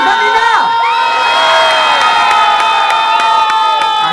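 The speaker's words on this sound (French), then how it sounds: "Vous vous hurlez une autre, une autre, une autre." A dense concert crowd at a live show shouts and cheers continuously and loudly for an encore, with many voices blending into a sustained roar.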